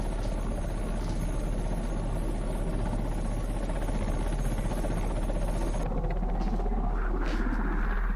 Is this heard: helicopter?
yes